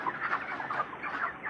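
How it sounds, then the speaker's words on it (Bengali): Chickens on a poultry farm, a dense flock of near-grown broilers close to shipping, clucking and murmuring continuously in a steady, busy chorus with no talk over it. "মুরগি দেখতে পাচ্ছ বড় হয়ে গেছে"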